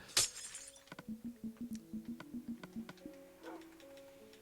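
A glass block shatters in Minecraft with a sharp crash, followed by a quick run of light rhythmic clicks and a softer second break, close and clear without talk.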